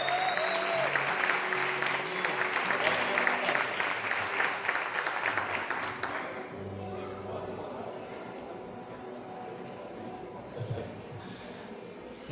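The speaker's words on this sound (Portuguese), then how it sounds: "Você pode aplaudir o Senhor?" Church congregation at a conference session applauding, a loud sustained crowd clap that thins and fades after about six seconds, leaving softer scattered claps and murmur.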